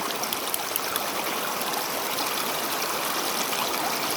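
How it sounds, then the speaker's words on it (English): A stream runs down over rocks into a pool of water, a steady close rushing and trickling wash with no voices over it. "The stream is just going down the rocks, down into a pool of water."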